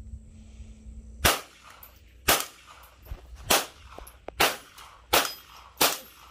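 Gunshots ring out at an outdoor shooting range, six sharp loud cracks spaced about a second apart, each with a short echoing tail, with no talking.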